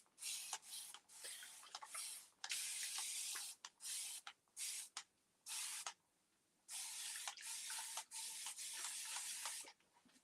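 Repeated hissing squirts from a spray bottle of vinegar water, a series of short and longer bursts separated by brief pauses, close and fairly quiet, with no talking.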